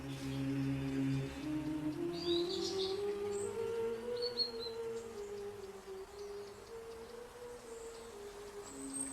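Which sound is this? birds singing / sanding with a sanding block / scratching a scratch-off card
birds singing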